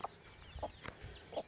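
Hen clucking in a pen with her chicks, three short soft clucks spaced evenly, close and moderately loud over faint background chirps.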